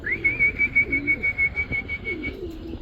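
Racing pigeons arriving at their loft after a 200 km race coo softly in low, rhythmic murmurs beneath a steady, sustained high whistle that runs through most of the moment.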